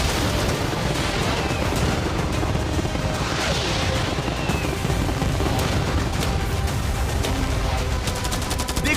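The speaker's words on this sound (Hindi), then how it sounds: "मैं चाहता हूँ कि तुम कैनन्स, फायरवर्क्स, एरोस, कैटापल्ट्स सब कुछ एक साथ फायर करो।" Cannons, fireworks, arrows and catapults fired all at once in a staged attack on a yacht, a dense continuous barrage of booms, cracks and crashes at full loudness throughout with no pauses.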